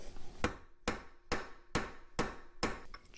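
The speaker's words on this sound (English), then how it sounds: "We'll try hammering on it again." Six sharp, loud hammer blows on metal in Deconstruction Simulator, struck at an even steady rhythm about half a second apart, each ringing briefly before the next hit.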